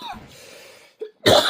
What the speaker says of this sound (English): Excuse the coughing again.